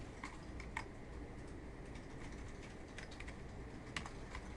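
Soft, scattered keystrokes on a computer keyboard, faint and sparse against a steady room hiss, with a few sharper clicks standing out.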